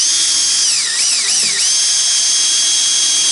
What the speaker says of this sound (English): I'm going to drill a small pilot hole.